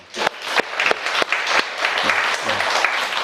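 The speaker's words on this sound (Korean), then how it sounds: "박수로 환영합니다." Applause welcoming a visiting pastor from Kansas and his son at a Korean church Sunday service, a dense burst of clapping from the congregation with sharp claps standing out, steady throughout.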